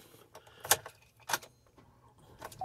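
Two sets of keys for a 2020 Chevy Suburban jangle close by in a couple of quick metallic shakes, with light handling clinks between them and a faint car-interior background.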